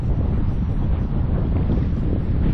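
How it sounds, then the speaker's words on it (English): Strong wind blows over a lake during a crappie fishing outing, a loud, continuous low rumble buffeting the microphone with no break and no voices. "God, it's so windy."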